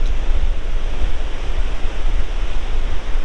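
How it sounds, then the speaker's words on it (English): Ocean waves roll in on a shore in stormy conditions at sunrise, a loud, continuous wash of surf mixed with rumbling wind buffeting the microphone. "we're now getting some bigger waves coming in for trails"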